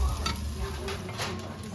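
Mushrooms cook down in rendered pancetta fat in a pan, giving a brief, continuous close sizzle with faint stirring ticks and no talk.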